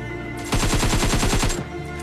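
A rapid burst of automatic gunfire from the video game Free Fire while pushing forward, about a dozen evenly spaced shots over roughly a second, loud and close with no talking.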